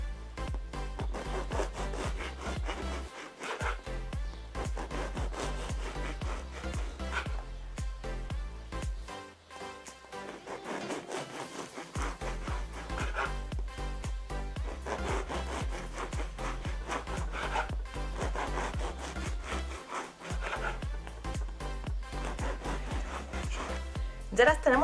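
A knife saws through a day-old bread loaf, cutting rounds about a finger thick; rasping strokes repeat steadily and close up, almost without pause, with voices and other background sound mixed in.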